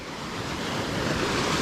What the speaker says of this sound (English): Look at this ocean, the Caribbean Sea